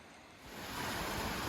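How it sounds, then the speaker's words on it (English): Steady broadband rush of a flowing mountain stream in Colorado that swells in after a quiet start, continuous and fairly close, with no voices. "Took me a minute to find where the sound of the water was coming from."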